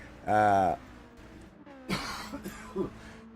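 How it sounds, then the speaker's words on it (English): A man's harsh coughing fit during live sim-racing commentary: one loud hacking burst, then a few smaller coughs and throat clearing, close to the microphone. "Just had to have myself a bit of a coughing fit."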